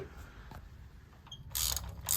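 Ratchet tightening new spark plugs on a Mazda Miata, a few quiet clicking pawl ratchets and mechanical creaks close by, ending in brighter louder bursts of metallic turning.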